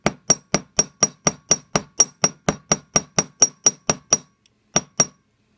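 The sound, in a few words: riveting hammer hammering copper bezel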